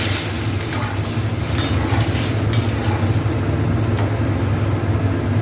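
Water is poured into a sizzling pan of papaya and potato curry, giving a steady hiss and bubbling sizzle throughout with faint stirring and clinks of utensils, no talk.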